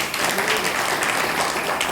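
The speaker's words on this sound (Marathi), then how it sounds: "जोरदार टाळ्या." A crowd at a gathering in Parli Vaijnath breaks into loud, sustained applause, a dense, continuous clatter of many hands clapping that stays steady from start to finish.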